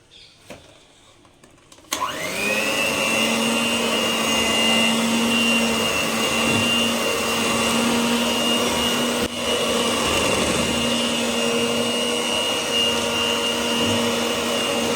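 An electric beater whirs steadily and loudly in cake batter with eggs and flour, starting abruptly after a few quiet seconds and holding a constant motor hum with a brief dip midway.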